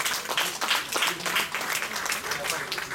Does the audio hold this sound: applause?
yes